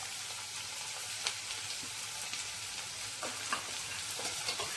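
Onion frying in a tempering with asafoetida and turmeric, a constant bright sizzle with occasional stirring clicks and scrapes, no talking.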